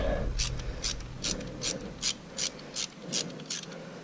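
A radiator hose clamp on a 2011 KTM 350 SX-F dirt bike is tightened with a hand tool, giving about nine short, evenly spaced rasping clicks up close.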